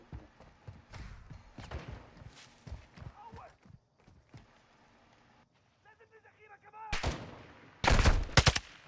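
Scattered gunshots in Call of Duty Warzone crack out at varying distances, some faint and some sharp, ending with loud close bursts, while players talk over them.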